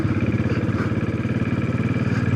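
A Royal Enfield Classic 500 EFI motorcycle is ridden, its engine giving a loud, close, steady pulsing thump with a rhythmic beat and no talk.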